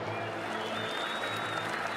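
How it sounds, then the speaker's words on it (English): A crowd cheering and applauding in the visual novel Baldr Sky, a steady wash of clapping and crowd noise over two seconds with no pauses. "The crowd erupts in cheers."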